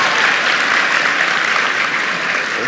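A commencement crowd at a Tennessee high school applauds the state governor, steady loud clapping filling the whole stretch without pause.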